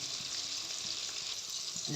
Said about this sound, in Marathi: आता फोडणी छानपैकी तयार झालेली आहे